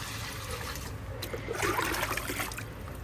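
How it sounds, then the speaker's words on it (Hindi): Water poured from a jug onto the base of a large guava tree, a short trickling splash rising in the middle of the clip against a quiet outdoor background. "ये डाला 2 जग, 4 जग डालूंगी मैं इसमें, क्योंकि पेड़ बड़ा है।"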